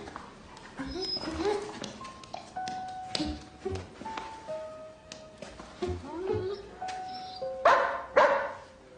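A police dog gives several short, sharp barks amid indoor sounds of tapping and a ringing chime, with people talking in between.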